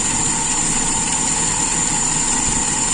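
A carburetted engine idling during an idle mixture adjustment, a steady even hum with constant vibration and a high whine above it, close and continuous.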